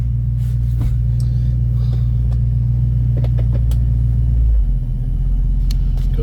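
A 1972 Ford Mustang Sprint rumbles steadily with a deep, loud engine drone from inside the car as it pulls away, the pitch dipping briefly near the end, with light rattles above it.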